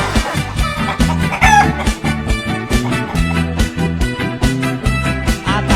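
A rooster's loud cock-a-doodle-doo crowing is heard as a comedic sound effect. Repeated clucks and calls sit over a punchy, rhythmic musical backing.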